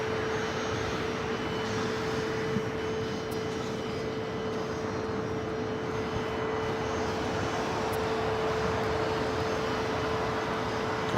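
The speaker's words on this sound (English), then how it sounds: "a lot of these corporate jets coming in more than likely for the game" A corporate jet coming in to land at LAX airport, a steady loud engine roar with a sustained whine that holds level throughout, no voices over it.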